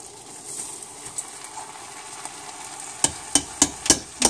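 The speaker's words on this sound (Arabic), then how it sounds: "وهنبتدي ننزل بالرز بتاعنا على الخلطة" Rice being stirred into a mahshi stuffing mixture with dried mint, soft scraping and rustling that ends in a quick run of sharp spoon taps against the pot.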